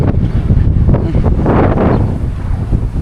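Strong wind buffets the microphone in a loud, continuous roar, gusting steadily throughout with no voices.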